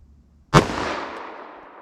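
A single sharp, loud gunshot from a .44 Special revolver firing a replica Elmer Keith load with a 240 grain bullet, alone in the clip, with a long reverberant tail fading out behind it.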